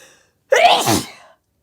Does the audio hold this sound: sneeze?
yes